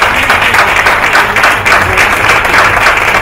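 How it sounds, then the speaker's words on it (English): Loud, sustained hand clapping from an audience at the 2014 Values Icon Awards, honoring the nominees with a dense, continuous wash of applause and no talk. "please, can you just give them a real good hand clap?"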